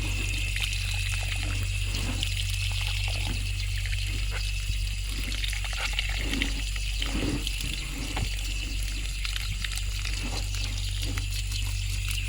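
Water splashes and trickles steadily onto a budget soil mix containing perlite, a continuous close wash of liquid against a steady background hum.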